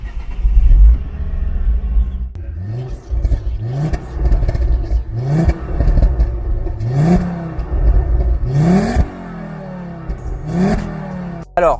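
A Ford Focus RS Mk2 engine cranks and starts, then gets a series of sharp rev blips that rise and fall in a regular rhythm, loud and close, with no talking.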